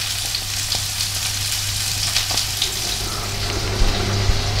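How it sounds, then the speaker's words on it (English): Green pepper, onions and garlic sautéing gently in a pan, a steady soft sizzle with faint crackles running continuously, with a low steady hum underneath. "here you can see the green pepper, onions and garlic just sauteing gently"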